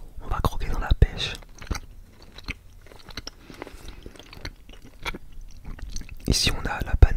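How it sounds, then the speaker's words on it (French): Crunchy bites and close-up chewing of a peach-flavoured candy, with several sharp crunch bursts spread through the clip and soft whispering between them. "On va croquer dans la pêche."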